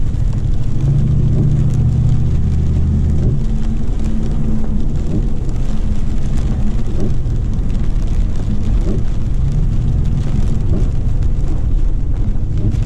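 A pickup's engine drones steadily at low pitch from inside the cab, with road noise and rattling as the vehicle keeps driving.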